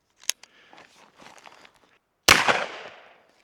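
One loud, sharp 9mm gunshot cracks out close by as it is fired into a stack of hockey pucks, following a few faint clicks and handling noises.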